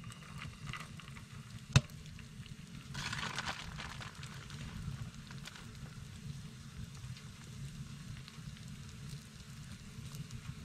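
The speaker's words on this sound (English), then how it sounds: "Got a little bit of a sizzle on there now." Low, steady crackling sizzle of food frying in a pan inside a hot tent while ice fishing, with a sharp click near the start and a brighter hiss joining a few seconds in.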